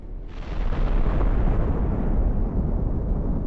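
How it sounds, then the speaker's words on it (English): An armored vehicle hits a mine, setting off a loud, close explosion: a sudden blast followed by a sustained, rumbling roar that stays heavy and dense for several seconds, with no talk. "It encounters a mine on its way."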